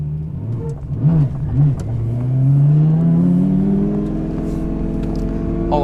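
A Lamborghini engine blips a couple of times, then accelerates hard in one long climbing rev with a rising whine, loud and close, as the car pulls away.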